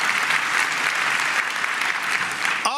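Audience applause at a county government State of the County address, dense steady clapping filling the clip at a constant loud level, breaking off abruptly near the end as a voice begins.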